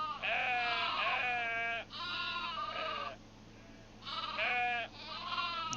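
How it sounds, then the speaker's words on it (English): Sheep in a video game bleat in long, wavering cries, three drawn-out calls separated by brief pauses, clear and close over a quiet background. "Sheep noises."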